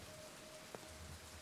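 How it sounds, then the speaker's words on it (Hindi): Sudden rain falling outside, a steady soft hiss of drops on surfaces with one brief sharper tap, no voices present. "गाड़ी बाहर ही है पर अभी अचानक बारिश शुरू हो गई है।"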